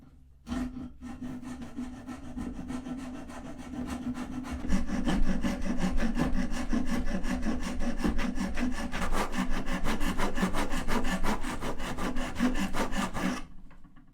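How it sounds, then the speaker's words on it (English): A hand rasp filing rough wood clamped in a vise, with continuous rhythmic scraping strokes, close and fairly loud, grows firmer midway and stops abruptly near the end. "So I'm going to get it put in the vise and use a rasp to clean it up."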